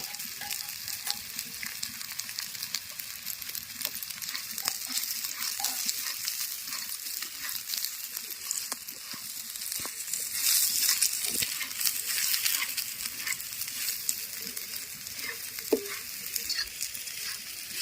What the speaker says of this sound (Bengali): কুঁদরি দিয়ে আর এক মিনিট নেড়ে নিয়েছি এবার দিয়ে দেব হালকা করে ভেজে রাখা পোস্ত